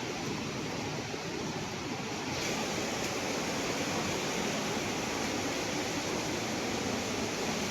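Strong, fast river current near Wawa Dam in Montalban, Rizal, a loud, continuous roar of rushing water that stays close and steady, with a slight wind buffet on the microphone.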